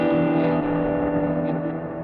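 A sustained, smeared synth tone runs through a tape delay with filtering and distortion, its echoing repeats blurring into a thick, steady drone with slight warbling and no voices.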